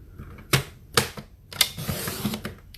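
A Stampin' Up paper trimmer works through a sheet of paper, giving a few sharp clicks and snaps about half a second apart, with a brief scraping slide between them, close and fairly loud.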